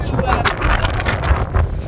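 Strong wind in extreme cold, about -30 windchill, buffets the microphone in loud, continuous rumbling gusts, with faint muffled voice-like sounds underneath.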